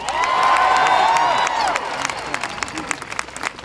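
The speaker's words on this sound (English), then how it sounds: "Give it up for Mark Warner" A political rally crowd greets Mark Warner with loud, sustained cheering and applause, swelling at first and then easing into scattered clapping and whoops.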